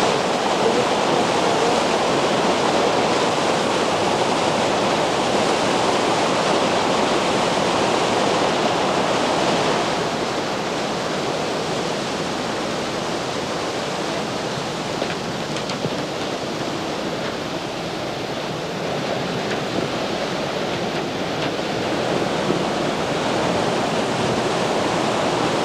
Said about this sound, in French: dans ce ruisseau-là, avec ses chutes, ces petites cascades